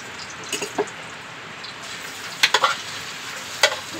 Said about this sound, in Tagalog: Dito na rin ako magsasangag sa pinag-anuhan ko ng chicken oil kanina.